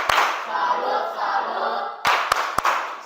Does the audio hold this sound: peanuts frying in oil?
no